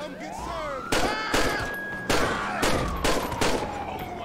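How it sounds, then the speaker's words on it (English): Gunshots ring out in GTA 5 during a highway patrol police encounter, about six sharp separate blasts at uneven intervals over a rising and falling siren wail. "Shots fired, dispatch, shots fired."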